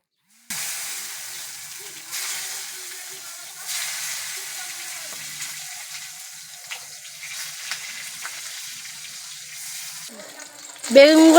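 Eggplant pieces fry in oil left over from frying puti fish, a soft, even sizzle and hiss that runs steadily throughout and ends with a sharp clatter of utensils.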